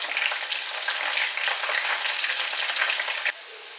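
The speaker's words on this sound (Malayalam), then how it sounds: "അപ്പം നല്ല ഫ്രൈ ആകുന്നിടം വരെ നമ്മൾ വെയിറ്റ് ചെയ്യണം. ഒന്ന് ഇളക്കി കൊടുക്കണം." Sliced bitter gourd fries in hot oil in a pan, a dense, steady crackling sizzle close up that drops to a quieter hiss near the end, with no voices.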